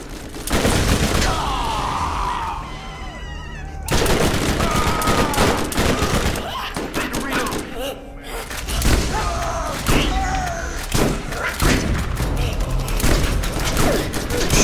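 Gunfire in Borderlands inside a crystal death cave, loud bursts of shots and heavy impacts in repeated clusters with brief gaps, dense and close throughout.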